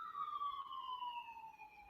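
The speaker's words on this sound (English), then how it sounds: "Pardon the sirens in the background" A police-style siren wails in the distance in one long, slowly falling tone, steady and fairly faint in the background with no talking.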